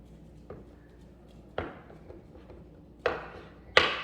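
Sharp knife chops through a block of soap base as it is cut into squares for melting into lavender soap bars, four distinct cuts spaced irregularly, close and crisp against a quiet room.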